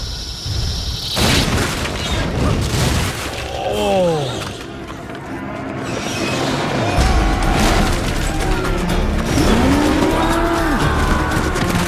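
Loud bovine moos from creatures in Metal Gear Solid 4 on PlayStation 3, several swooping calls over rumbling game noise and booms, close and prominent throughout.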